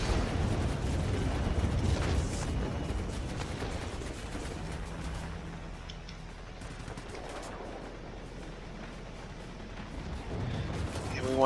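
Bombs exploding on a radar installation in World of Warplanes, dropped by a Tier X German Messerschmitt Me P.1102 B attack aircraft, with heavy booming blasts and crackling gunfire over a constant engine roar and someone talking.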